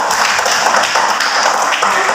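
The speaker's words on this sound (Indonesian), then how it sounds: "Tepuk tangan buat Virginia" Students in a classroom clap steadily for a classmate, a dense, even patter of many hands that runs the whole length without talk.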